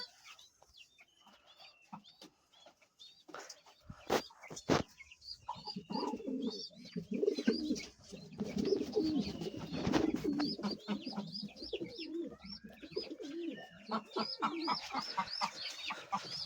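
Pigeons coo repeatedly in a pigeon farm, the low rolling calls layering densely and continuously through most of the stretch, mixed with scattered clucks, faint bird chatter and a few sharp knocks near the start.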